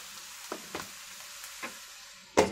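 A pot of carne guisada with onion and chiles gives a faint, low simmering sizzle, broken by a few scattered utensil scrapes and a sharper clatter near the end.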